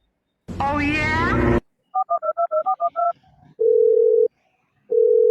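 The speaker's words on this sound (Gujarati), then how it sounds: "ફોન કરવા દે ને." A phone call being placed: a brief voice, then a quick run of keypad tones pressed one after another, followed by two long steady ringing tones with a gap between them.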